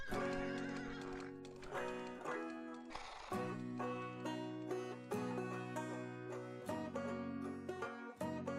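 Wild horses on a distant mountain slope in British Columbia neigh and whinny repeatedly in long, tonal calls, some overlapping, with no talking.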